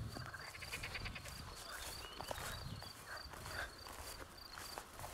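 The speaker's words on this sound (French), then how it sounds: "On entend les grenouilles du genre rana" Rana frogs croak from a lakeshore amid flowering natural meadows, a busy, continuous chorus of rasping calls at middle distance with scattered clicks and rustles.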